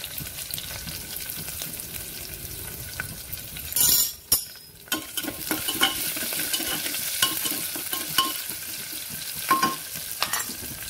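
Onions frying in a pan with green chilli and curry leaves, a steady sizzle under repeated scraping strokes of a spoon stirring, with a brief louder burst partway through.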